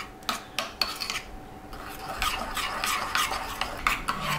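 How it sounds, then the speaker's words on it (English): Coleslaw dressing is stirred in a bowl, heard up close as soft rhythmic scraping and swishing with regular clicks of a utensil against the sides, and no one speaking. "Just mix it all up, nice and smooth."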